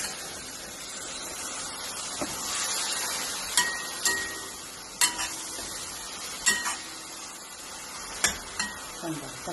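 Brinjal tipped into a pan of cooked-down tomatoes for a simple curry, with a steady soft sizzle and several sharp scrape-and-clatter stirring strokes spaced a second or two apart, close up and no talking.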